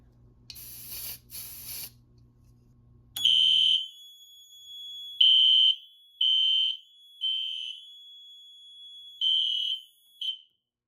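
A Notifier SFP-400B fire alarm panel sounds its steady, piercing electronic tone in repeated bursts of about a second each, loud and close, after two short hissing noises at the start.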